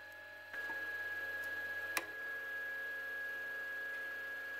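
An Anycubic i3 Mega 3D printer printhead shifting position, heard as a quiet motor start and soft ticking with a steady tonal whine running throughout, plus a single sharp click midway, close and low in level with no talking.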